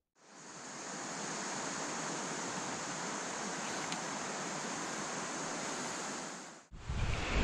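The Savage River in western Maryland rushes outdoors in a steady, broad wash of flowing water, close and even throughout, ending in a brief rumbling jolt as the recording cuts.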